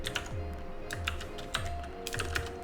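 Rapid keystrokes on a computer keyboard come in short clustered bursts, with soft low thumps as keys bottom out, close and fairly quiet, with no voices.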